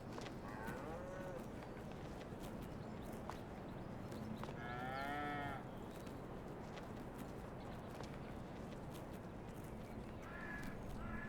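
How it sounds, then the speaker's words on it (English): Cattle in a barn in the Farming Simulator 22 video game give several drawn-out moos over a steady low background hum, with a few faint sharp knocks and a short higher call near the end. "the cows like to just come in here and rip through it all"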